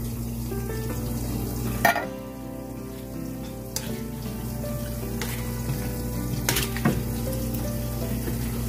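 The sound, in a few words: potatoes sautéing in butter or margarine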